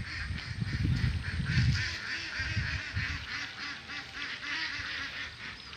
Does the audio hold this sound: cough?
no